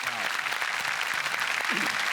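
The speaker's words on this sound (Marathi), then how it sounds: "निलेशसाठी आपण टाळ्या वाजवूया" A studio audience gives a short burst of applause for a host, a dense even patter of many hands clapping briefly throughout.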